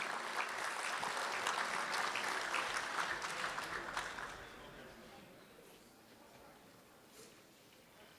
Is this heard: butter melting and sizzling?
no